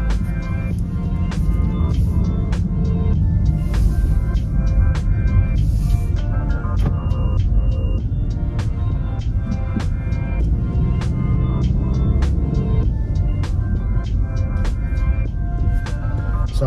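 Cabin sound of a 2024 Nissan Altima SV on the move: a steady low engine and road hum fills the interior, punctuated by regular sharp clicks and occasional faint rattles, with no talking.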